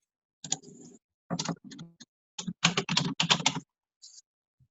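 Quick bursts of typing on a computer keyboard, clusters of crisp clicking keystrokes separated by short pauses, close and fairly quiet.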